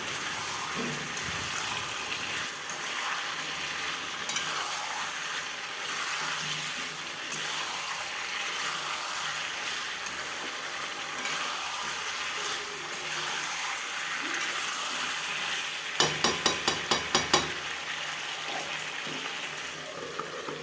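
Chicken curry with potatoes sizzles as it is sautéed in a pan, a steady low frying hiss running throughout, with a brief burst of sharp clinks from stirring near the end.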